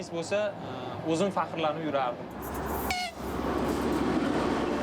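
People talk briefly before the Silk Road Express passenger train in Uzbekistan takes over, wheels rumbling steadily and loudly close by, with a sharp squeal partway through.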